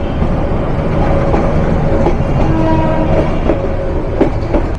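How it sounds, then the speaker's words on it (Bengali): A Class 2900 locomotive hauling a Bangladeshi commuter train from Dhaka, heard from on board as a loud steady rolling rumble with rhythmic wheel clicks over rail joints and occasional metallic squeals. "2900 শ্রেণীর প্রথম লোকোমোটিভ এটা।"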